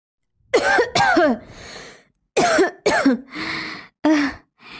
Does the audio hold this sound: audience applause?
no